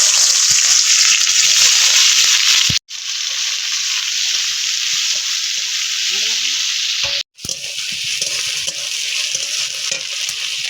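Chopped onions sizzle loudly in hot oil for a mutton curry, a bright, continuous frying hiss broken twice by brief gaps, with faint stirring scrapes underneath.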